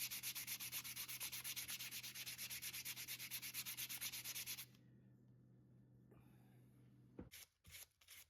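A screwdriver knob is rubbed by hand against 220 grit sandpaper backed with Scotch-Brite, a steady rhythmic scratching of quick back-and-forth strokes up close, then stopping into a quiet hiss and a few soft handling bumps.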